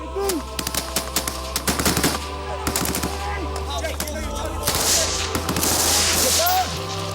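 Machine gun fire during a Taliban attack in Afghanistan with Royal Marines: rapid bursts and crackling volleys of gunfire, loud and continuous over several seconds, with some shouted voices mixed in.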